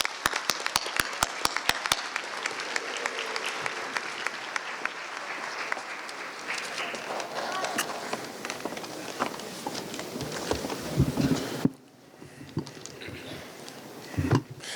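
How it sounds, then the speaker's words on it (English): A graduation ceremony crowd claps as a speaker walks on stage, sharp claps opening a dense, sustained round of applause that cuts off abruptly near the end, leaving a quieter room with a few scattered sounds. "Let's give him a hand as he comes."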